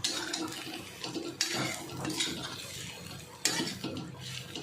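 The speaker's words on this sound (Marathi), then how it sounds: "सगळं मस्त परतून घेऊया" Fenugreek thecha with a little lemon juice is sautéed in a pan, with spoon scrapes, clinks against the metal and soft sizzling in bursts.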